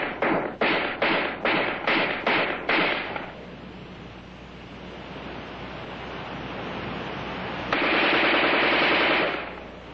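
An Armalite AR-10 rifle fires a rapid string of about eight sharp shots in the opening three seconds, followed by a steady noisy rumble and a louder broadband burst near the end, with no talking.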